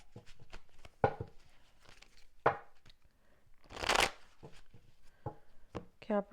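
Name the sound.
shuffling tarot cards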